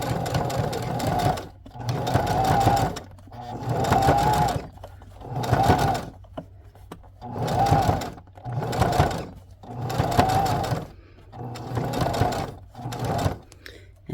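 A sewing machine stitches a vintage-style needlebook in seven or eight steady bursts, each run of rapid needle chatter a second or so long, separated by short pauses, close and clear.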